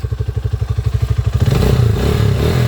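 A Rusi Mojo 200cc motorcycle engine, freshly repaired with a new countershaft and bearings, idles with a steady, pulsing thump, then revs up into a louder, continuous roar, close by, on a road test.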